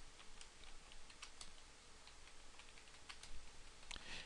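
Steady typing on a computer keyboard during data entry: a fast, irregular patter of light clicks over a constant background hiss, with no talking.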